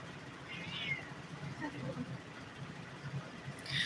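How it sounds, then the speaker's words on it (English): A house cat meows a few times, soft and nearby, begging for attention over a constant background hiss and murmuring voices. "That cat is begging for pets."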